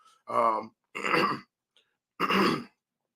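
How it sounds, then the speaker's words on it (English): A man clears his throat three times in short, rough bursts separated by brief pauses, close and fairly loud, with no other sound around. "Let me clear my throat."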